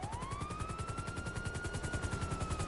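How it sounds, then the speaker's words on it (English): Steady rhythmic helicopter rotor thumping with a rising turbine whine in the video game GTA Online, constant and fairly loud, no voices. "put the sound effects loud so that you can hear the helicopter"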